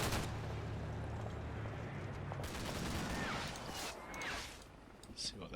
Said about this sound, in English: we're getting a bit of MG or possibly cannon fire coming into the building